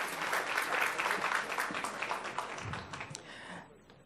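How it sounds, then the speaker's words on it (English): Audience applause at a Palm Beach County school education event, a thick round of clapping that holds steady and then thins into scattered claps before fading out. "Let's give them a round of applause."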